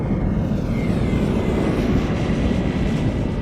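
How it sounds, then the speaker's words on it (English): A KLM airliner in Orange Pride livery lines up on the runway at Schiphol Airport, its engines giving a steady, fairly loud broadband roar that holds constant throughout, with no talking over it. "KLM Orange Pride now lining up on center for departure."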